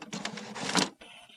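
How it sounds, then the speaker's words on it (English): HP Deskjet F4180 all-in-one printer scanning an alignment page: a close, steady whirring mechanical scan motion with fluctuating buzz, ending in a quieter lingering hum. "The printer will now scan the alignment page and align the cartridges."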